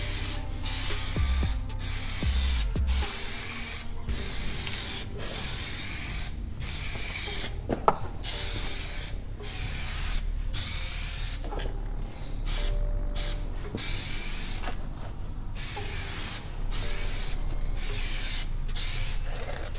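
Rapid bursts of aerosol spray paint coat Dodge RAM SRT-10 emblems black, with many short hissing sprays separated by brief pauses, close and fairly loud, no talking.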